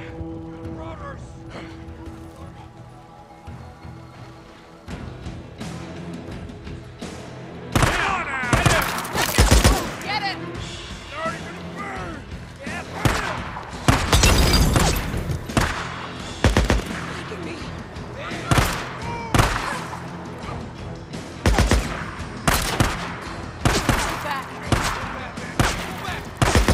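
Gunfire from robbers in the video game Days Gone: bursts of loud, sharp shots in rapid volleys and scattered single cracks, starting after a quieter stretch, with a voice shouting among them.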